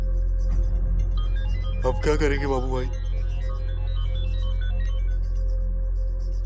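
A mobile phone ringtone from a child's phone left in a pocket plays a looping electronic melody of steady stepped tones over a background hum, with a brief burst of voices partway through.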